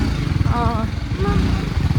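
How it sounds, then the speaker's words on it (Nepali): A motorcycle engine chugs loudly and close as the bike crawls along a rough, muddy road, its uneven low throb pulsing throughout while a voice speaks briefly over it. "बाइक चलाउनु पर्ने हुन्छ"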